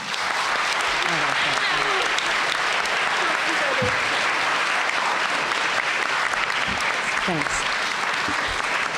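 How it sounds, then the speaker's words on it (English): A large conference audience at a student general assembly applauds steadily, a dense, even wash of clapping that holds loud for the full stretch, with a few voices briefly audible underneath. "Please put your hands together, or whatever you want to do, clap, to show your appreciation for their hard work"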